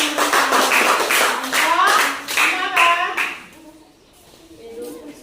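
Students in an Indonesian elementary classroom clap together for several seconds while children's voices chatter over the applause. The clapping then drops away, leaving quieter speech.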